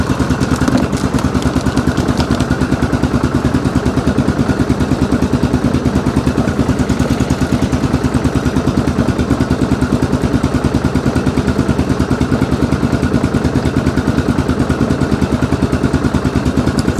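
A Yamaha Grizzly 660 ATV, revived after sitting eight years, idles steadily with an even, rapid thumping rhythm that is loud and close and holds unchanged throughout.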